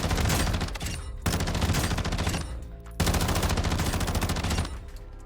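Sustained full-auto bursts from a long-range assault rifle with an 18-inch barrel in Warzone, three long rattling strings of close, loud shots separated by brief pauses.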